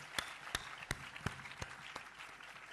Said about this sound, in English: Can we give a bigger round of applause?